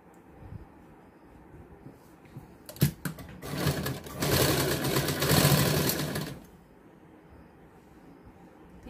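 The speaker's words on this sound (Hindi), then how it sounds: "तो इसको अब स्टिच करेंगे।" A sewing machine stitching blouse fabric for a katori blouse runs in a steady mechanical burst of several seconds, preceded by a few clicks and handling sounds, then stops to quiet room tone.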